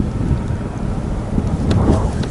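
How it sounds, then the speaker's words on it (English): Wind buffeting the microphone on an anchored catfishing boat, a loud, continuous low rumble that swells and gusts throughout with no voices. "the wind's kind of a nuisance as it picks up"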